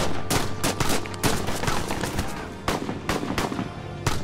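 Gunfire erupts during an attack on a house in the video game Broken Sword 5, with rapid bursts of sharp shots and explosions crackling one after another at close range.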